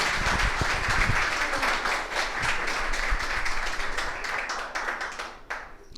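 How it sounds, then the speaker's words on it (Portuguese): Audience clapping at an association's assembly, steady crowd applause filling the space at moderate loudness and tapering slightly near the end. "E eu peço uma salva de palmas por isso"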